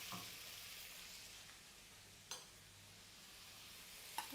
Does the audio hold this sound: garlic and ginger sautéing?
yes